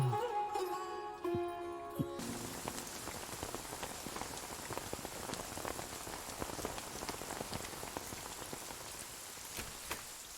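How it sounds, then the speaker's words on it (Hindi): Heavy rain pours down in a dense, steady hiss with scattered close drop impacts. It follows a brief musical opening and continues loud and unbroken. "अरे बाप रे, कितनी बारिश हो रही है"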